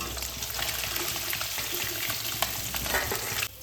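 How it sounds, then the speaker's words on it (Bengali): Tangra fish deep-frying until very crisp in hot oil for a Bengali fish dish, giving a close, steady, dense sizzle peppered with sharp crackles and pops throughout, with no talking and a brief change in the texture near the end. "ট্যাংরা মাছটাকে খুব কড়া করে ভেজে নিচ্ছি"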